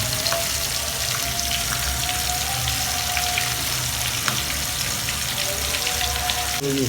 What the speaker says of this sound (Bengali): মাছটাকে কড়া করে এপিট উপিট দুই পিট কড়া করে ভাজতে হবে